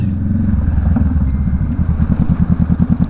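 Many motorcycles moving through Sunday traffic, a loud, close, continuous engine drone with rapid pulsing exhaust putter and some rattling clatter, no talking.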